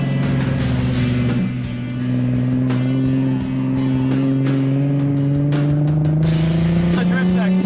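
Drift car sliding through the drift section of a track, engine roaring loud and sustained near the listener with rising revs and tire noise, voices faintly under it.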